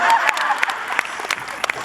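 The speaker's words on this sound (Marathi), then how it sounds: "हे बायकांनी पण टाळ्या वाजल्यात म्हणजे त्यांना पटलंय." Audience applause at an anniversary award ceremony in a hall, a short burst of dense clapping from a crowd that thins out within two seconds.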